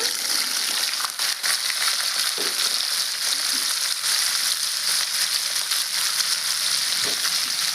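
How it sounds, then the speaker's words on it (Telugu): Cauliflower fries in hot oil with a loud, even sizzle close up, broken by occasional scraping and stirring knocks from a spatula in the pan. "కొద్దిగా ఆయిల్లో ఫ్రై చేసుకున్నామండి"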